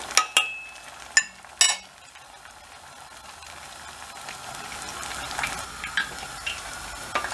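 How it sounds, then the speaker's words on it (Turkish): Oil sizzles and crackles steadily as potato balls with kasar cheese and sucuk fry in a pan, with a few sharp clinks of a utensil against it at the start. "kırmızı olana kadar kızartacağız"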